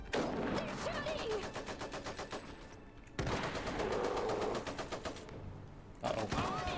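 Rapid machine-gun bursts in the real-time strategy video game Iron Harvest, loud and rhythmic rattling fire in two long volleys separated by a brief pause, with game voices underneath.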